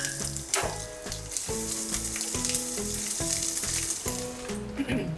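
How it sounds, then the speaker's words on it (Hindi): Coarsely crushed garlic and ginger sizzle steadily in hot oil in a pan, a dense continuous crackle with rhythmic tapping from a utensil stirring underneath. "ऑयल यहाँ हमारा गर्म हो चुका है, और अब हम इसमें लहसुन अदरक शामिल कर लेंगे।"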